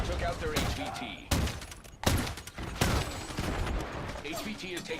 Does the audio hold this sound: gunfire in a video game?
yes